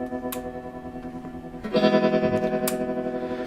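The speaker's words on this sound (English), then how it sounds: "starting to sound like robot-y, sort of choppy, sort of modulated sound there" A guitar effects pedal set to a very fast, narrow vibrato gives a sustained tone a choppy, warbling, robot-like modulation, loud and close, with the wobble growing stronger partway through.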